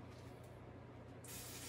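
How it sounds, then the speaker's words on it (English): A spray bottle mists a bioactive reptile tank setup with a steady soft hiss that grows brighter and louder near the end, heard up close with no voices. "all you have to do is just give it a nice spray"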